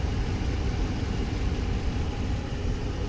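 2017 Ram 1500 Laramie pickup with a 5.7-liter Hemi V8 and clutch fan idling, a steady low rumble with a broadband whoosh, constant and close with no talk.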